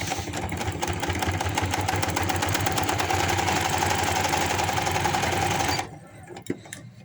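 Sewing machine stitching a boy's pajama with white thread, a fast steady whirring rattle running close and loud for about six seconds, then stopping, followed by a couple of quiet handling clicks.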